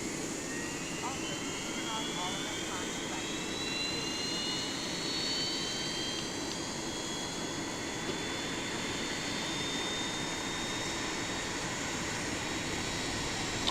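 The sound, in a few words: Airbus A320 jet engine starting in X-Plane 11 video game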